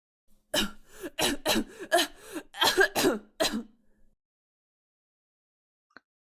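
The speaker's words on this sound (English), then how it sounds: "She almost immediately started coughing." A video game character coughing while sipping tea, a rapid burst of about eight harsh coughs over a few seconds, close and fairly loud, then silence apart from a faint click.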